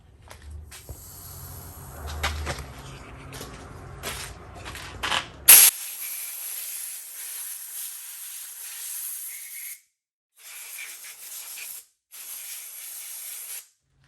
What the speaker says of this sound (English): let me find an air nozzle